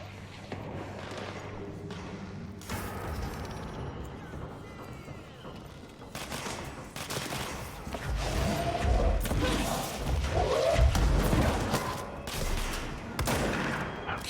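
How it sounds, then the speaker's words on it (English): Gunfire in the video game Control comes as bursts of shots and heavy thumps, building to a dense, loud volley in the latter half, with mechanical clanks among them. "And yes, I hear the gunfire."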